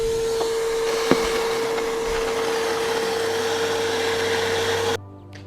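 A vacuum sucks water and debris from the well beneath a pool filter, a steady loud motor roar with one sharp knock near the start, cutting off abruptly before a quiet tail.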